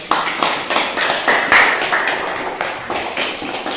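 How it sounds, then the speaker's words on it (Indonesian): A class of students claps together in rhythmic unison, roughly eight loud, evenly spaced beats of clapping, close and crisp, with one faint short vocal sound in the middle. "tepuk tangan dulu"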